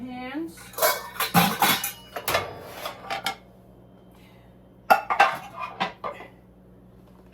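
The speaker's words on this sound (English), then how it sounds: "let's take out our pots and pans." Pots and pans rattle and clank as they are lifted out of a kitchen cupboard, close by, in two bursts of metallic knocks and scrapes separated by a quiet pause.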